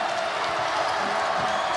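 A basketball crowd at a Clemson game roars in a steady, dense wash of cheering and noise that fills the whole moment without a break.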